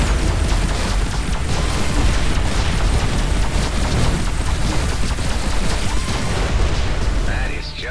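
Flak cannons in the space combat game Everspace 2 pound away with a continuous roar of explosions and bursts, loud and dense throughout, with a voice talking over the barrage.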